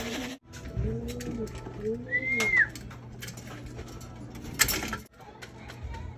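A racing pigeon back home at its loft during a derby coos in low, rounded, repeated calls at close range, with a brief thin whistle-like tone partway through and steady background noise throughout.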